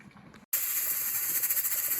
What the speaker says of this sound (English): that's the typical amount of steam that comes up